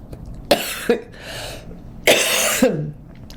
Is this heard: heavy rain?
no